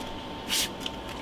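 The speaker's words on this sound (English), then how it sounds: "And it's as simple as kind of just spray on the carpet" Fabric refresher sprayed onto a car's interior carpet, a single short hissing burst near the mic, followed by a faint click, over quiet background hum.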